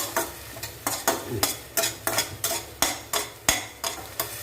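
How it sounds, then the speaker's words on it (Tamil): A spoon stirs and scrapes chili sauce sautéing in butter in a pan, giving a steady run of rhythmic knocks about twice a second over a soft, close sizzle. "கொஞ்சமாக சில்லி சாஸ் பட்டரில் தான் வதக்கி"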